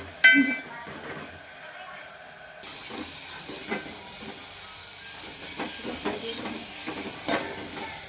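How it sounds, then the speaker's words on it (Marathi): Spices drop into hot oil for tempering while a Makar Sankranti meal is cooked in a home kitchen. The quiet, clinking start gives way to a sudden, steady sizzling hiss, with occasional utensil clinks. "तर चांगलं तेल बघा, मस्त अशी फोडणी बसली आपल्या येवणीला"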